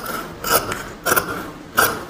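Scissors cutting blouse fabric for a stand collar, three crisp, close snips spaced about half a second apart with a dry mechanical bite.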